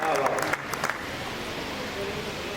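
An audience at a Hindi kavi sammelan poetry recital in Gondia claps in a brief, dense burst that thins out within a second, leaving room murmur and a voice.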